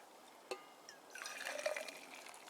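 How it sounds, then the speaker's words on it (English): Water poured from a bottle into a mug at a camp coffee setup with an alcohol stove, a soft, steady trickle that starts after a faint knock and runs on quietly at close range with no talking. "let's put some water"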